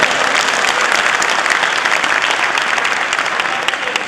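An audience at a comedy show breaks into loud, close, sustained applause, an even wall of clapping with no pauses.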